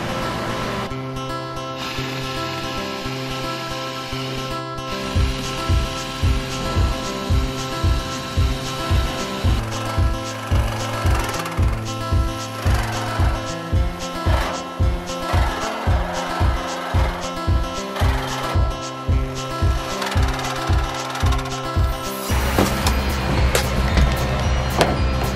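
Power tool cutting a hole through the metal roof of a Chevy Express van, a harsh buzzing saw with rapid rhythmic pulses that keeps going, loud and close, for most of the stretch.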